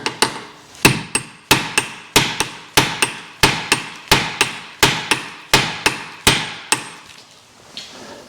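A hammer repeatedly strikes a car axle while a differential is removed from a BMW E46 330ci with 188k miles, about fourteen sharp, loud metallic blows in a steady rhythm with ringing decays, close by and with no speech.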